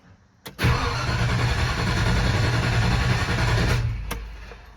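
A Ford 292 Y-block V8 with a vacuum leak and the choke pulled gives a short crank, catches and roars loudly for about three seconds close by, then dies away.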